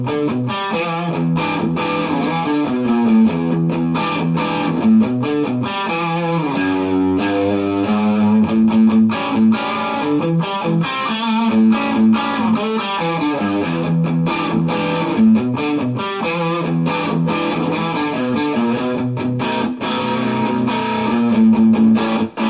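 Electric blues guitar riff in a triplet feel played up to tempo with a slightly distorted tone, a steady loud repeating pattern of bass notes and chord stabs running throughout.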